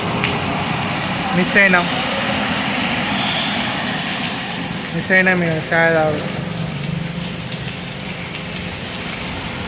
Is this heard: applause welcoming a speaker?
no